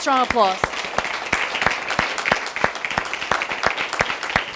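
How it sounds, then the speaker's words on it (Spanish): A church congregation claps in unison during a Spanish-language sermon, sharp evenly spaced beats marching along steadily, with a brief voice at the very start. "Dele ese fuerte aplauso al Señor."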